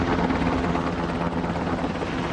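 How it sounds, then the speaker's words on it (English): Black Hawk helicopters fly over the channels of Pelican Island on the Louisiana coast, dropping sandbags, with a steady, loud, thumping rotor drone and engine rumble throughout and no voices. "Black Hawk helicopters build a sandbag defense in the channels on Pelican Island"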